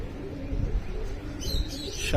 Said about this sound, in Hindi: पीछे एक मेरी ही कबूतरी बैठी है